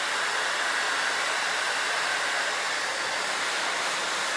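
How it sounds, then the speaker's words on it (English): A Harry Josh blow dryer runs on high heat and high power, a steady, loud broadband whoosh held close without pause for several seconds. "So I'm going to hold the blow dryer"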